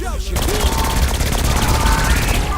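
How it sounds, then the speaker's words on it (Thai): Rapid bursts of gunfire in Saints Row IV rattle loudly and continuously, a dense machine-gun fusillade close up. "ยิงรถครับยิงรถเอารถแม่งระเบิดเลย"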